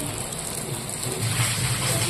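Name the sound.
heavy rain falling outside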